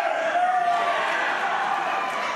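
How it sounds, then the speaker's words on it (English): A wrestling event crowd cheers and roars loudly and steadily from all around the arena, a dense sustained wall of voices with a few shouts standing out. "as you can hear from the crowd here, I mean, the entire crowd here"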